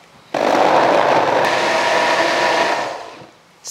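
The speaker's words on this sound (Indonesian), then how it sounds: "kita blender aja." A kitchen blender whirs loudly and close, blending chicken with egg white and ice cubes, starting abruptly, holding a steady high roar for under three seconds, then winding down.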